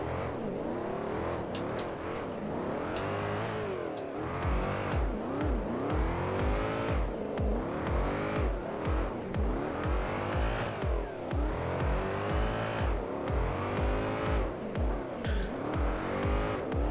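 V8-swapped Mazda MX-5 Miata drifting in the Drift 21 video game: a loud engine revs up and down repeatedly with rising and falling pitch sweeps, tire squeal mixed in, continuous and close with no talk.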